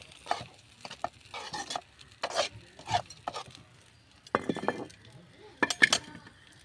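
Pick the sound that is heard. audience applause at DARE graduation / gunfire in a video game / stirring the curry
stirring the curry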